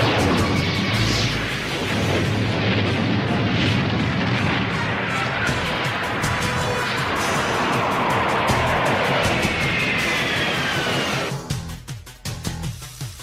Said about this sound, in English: Plasma Launcher!